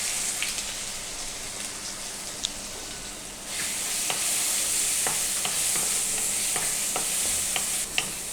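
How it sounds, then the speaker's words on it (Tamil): Ground ginger, garlic, fennel and cumin paste hits hot oil in a pan for chicken gravy, a continuous sizzling hiss that jumps louder midway, with scattered crackles and sharp pops. "இப்போது இந்த இஞ்சி பூண்டு சோம்பு ஜீரகம் அரைச்சதை போடுறோம்."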